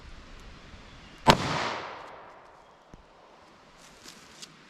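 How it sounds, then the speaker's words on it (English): A single .38 revolver shot with a Federal load fired into a ballistics gel block, one sharp loud crack followed by a fading outdoor echo, with a few faint clicks and thumps afterward and no speech. "let's hit our ballistics gel block and see how these compare in our terminal ballistic test"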